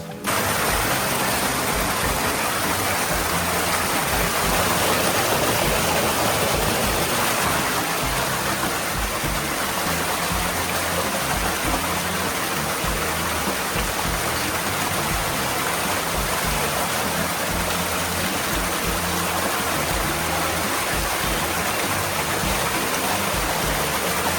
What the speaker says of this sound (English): enjoy the peaceful sound of the stream flowing through the forest